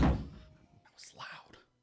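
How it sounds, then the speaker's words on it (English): A door slams shut with a heavy, close thunk at the very start, its boom fading quickly into quiet before faint, breathy voices briefly rise. "the door slammed behind him."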